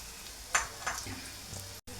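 Curry leaves and green chillies are dropped into hot tempering oil for a Telugu dondakaya curry, bursting into a loud crackling sizzle with sharp spits and pops, then a steady frying hiss with a stirring scrape.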